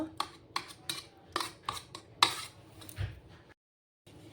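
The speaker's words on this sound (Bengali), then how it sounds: "এটা আমি এই চামচের সাহায্যে এইভাবে নেড়ে নেব" A spoon repeatedly scraping and clinking against a pan while oil is stirred in a home kitchen, a quick irregular series of close, sharp metallic strokes that stops abruptly before one last scrape.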